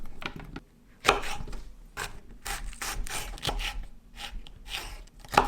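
A knife chopping green chili peppers on a cutting board for chili shrimp, rapid repeated close cuts and scraping strokes in uneven bursts, loud and clear.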